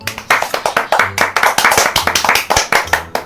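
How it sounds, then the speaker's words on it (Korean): A group of children clapping together, a quick run of many claps in a steady burst with a few voices mixed in. "자, 박수 얘들아."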